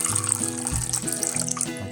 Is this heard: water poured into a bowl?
yes